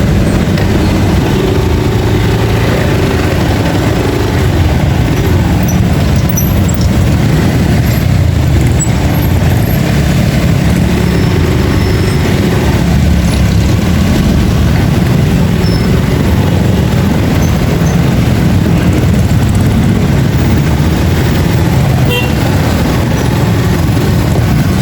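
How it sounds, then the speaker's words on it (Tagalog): A 200cc motorcycle rides along a road with a steady, loud engine drone and heavy wind and road rumble that never lets up, and no one talks. "So 200cc lang po ang motorsiklo natin."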